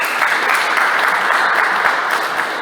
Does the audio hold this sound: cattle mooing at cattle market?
no